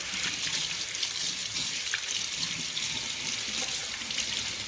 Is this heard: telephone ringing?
no